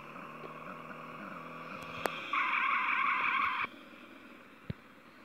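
A powerful car revs hard with a sustained tire squeal for about a second, a loud harsh screech over steady engine drone, followed by a fading rumble and a brief knock.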